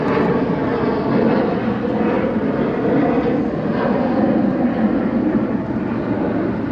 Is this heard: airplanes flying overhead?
yes